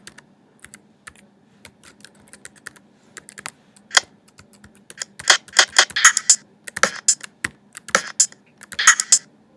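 Computer keys clatter in quick irregular bursts while playing samples in Logic, soft and sparse at first, then faster and louder typing toward the end.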